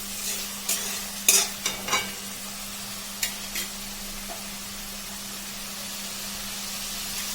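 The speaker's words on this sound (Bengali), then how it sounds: "মশলাগুলো দিয়ে একটু কষে নেবো" Spices being sautéed in a pan for a bean-paste dish: a spatula scrapes and taps against the pan several times early on over a soft, steady sizzle, then only the quiet frying continues.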